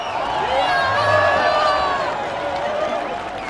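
A huge crowd gathered at the Berlin Wall makes a loud, continuous roar of many voices, with cheering and shouting swelling and easing over a few seconds.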